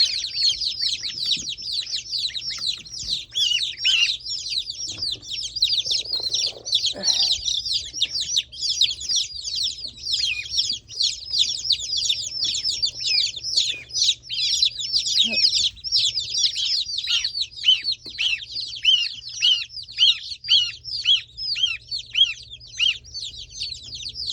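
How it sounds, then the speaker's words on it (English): Many high-pitched peeping chirps from small chicks, overlapping continuously in a busy chorus, with a low hum underneath. "Baby chickens."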